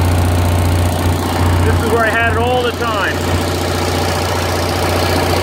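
An Onan 5CCK generator engine runs at a steady idle with a constant low hum and rumble, while someone talks over it close by.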